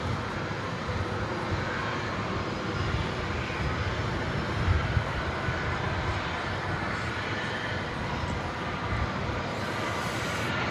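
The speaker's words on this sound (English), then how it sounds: "right was American Flight 1723 from Cancun. That was a 737-800." An American Airlines Boeing 737-800 arriving on runway 18 right at DFW Airport, its engines a steady, broad roar that holds for the whole stretch with no talk over it.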